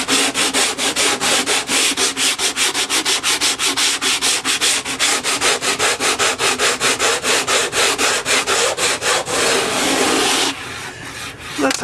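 A wooden block wrapped in 60 grit sandpaper is scrubbed back and forth over model railroad roadbed, a loud, steady rasping rhythm of quick strokes that carries on for about ten seconds before stopping.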